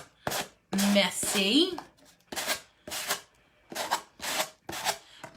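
A Dollar Tree sanding block scrubs downward over paper on a crafted BBQ grill pig hanger: about seven close, rhythmic, raspy strokes with short pauses between them. A brief spoken remark overlaps the early strokes.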